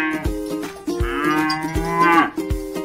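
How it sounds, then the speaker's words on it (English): A cow lowing in several deep, drawn-out moos, loud and close, one after another with no other sounds around them. "Cow."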